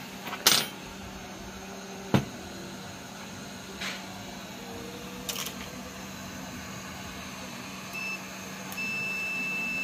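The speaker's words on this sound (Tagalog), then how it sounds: "Okay, may buzzer tayo." A Panasonic LED TV under repair lets out a few scattered short electronic beeps over a steady low hum, then a sustained tone at the very end, with no one talking.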